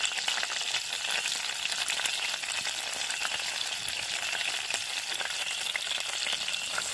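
Curry leaves and dried chilies fry in hot oil in a pan, giving a steady, dense sizzle with crackling spatter that holds loud and even throughout, with no voices.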